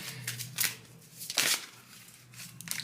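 A deck of cards being shuffled for a card reading, a few quick riffling bursts close by with short pauses between, no voices.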